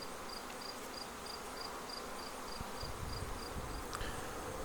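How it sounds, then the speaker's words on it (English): Honey bees buzz at the entrance of an Apimaye Ergo hive as a soft, steady outdoor hum, with a faint, regular high-pitched chirp repeating in the background. "Guard bees are doing what they're supposed to do, keeping other bees away."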